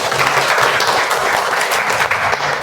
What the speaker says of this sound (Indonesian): Oke, tepuk tangan untuk Nur Madinah.